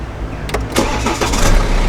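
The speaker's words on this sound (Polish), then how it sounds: "auto odpala od dotknięcia na sam widok kluczyka można by powiedzieć." A BMW X1 2.0 diesel engine cranks briefly and catches, settling into a loud, close idle.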